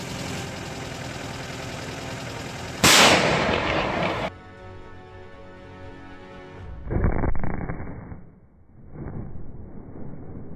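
Artillery guns fire during the battle for Kyiv: a loud booming blast cuts through a steady engine rumble, then a second heavy concussive boom follows a few seconds later and rolls away into quieter rumbling.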